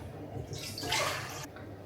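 Water poured into a bowl for bread dough made with white and spelt flour, a short splashing trickle that swells and cuts off abruptly after about a second, quiet against a low background hum.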